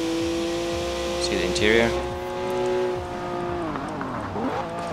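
A stock 2011 BMW 1 Series M Coupe in Forza Horizon 4 drones along with a smooth, tonal engine note that rises and falls as it shifts, while someone talks over it.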